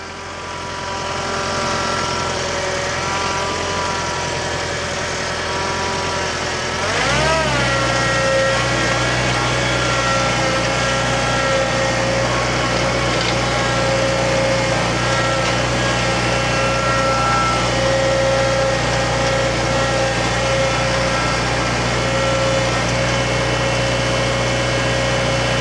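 A heavy grapple churns up dirt while its machine's engine runs steadily, loud and close, shifting to a deeper, heavier drone partway through as load comes on, then holding a sustained whining hum.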